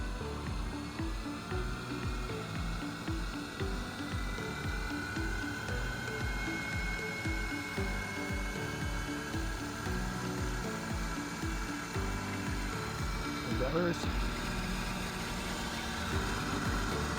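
A rebuilt KO Lee surface grinder spindle runs at about 1600 RPM, making a steady, continuous mechanical hum with a low rhythmic pulse that holds level throughout.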